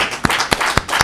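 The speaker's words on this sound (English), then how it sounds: "Round of applause." Applause at a post-fight press conference for Claressa Shields versus Maricela Cornejo comes as a quick run of loud, close claps, with three or four sharp hand claps standing out over a thin background of clapping.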